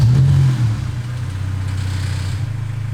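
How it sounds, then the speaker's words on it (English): A Honda S2000 engine runs at a steady low idle, a deep continuous rumble with a brief heavier burst at the start, close by and with no voices. "So that is what the car sounds like."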